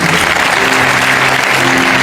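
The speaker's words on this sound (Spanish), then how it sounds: "Dale un aplauso fuerte al Señor." Church congregation applauding loudly and steadily throughout, a dense wash of clapping with faint sustained tones underneath from music or voices.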